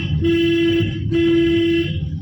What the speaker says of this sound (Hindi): हॉर्न दीजिए लंबा